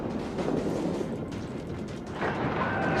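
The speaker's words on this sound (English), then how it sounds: "We can also come around here and start firing on the Königsberg" Warship guns fire at the cruiser Königsberg in World of Warships, a dense rumbling roar of naval artillery and distant booms, steady and heavy with no talk.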